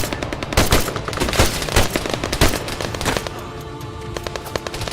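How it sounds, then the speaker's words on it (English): Machine gun fire in the Arma 3 military video game, heard as close, loud rapid bursts with sharp cracks for the first few seconds, then a steadier, denser rattle of distant fire. "Engage that machine gun!"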